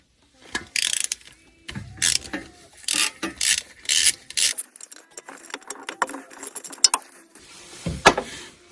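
A socket ratchet loosens a coil pack bolt on a Porsche Cayman S 987.2 engine, giving close, repeated bursts of quick metallic clicking with short pauses between strokes.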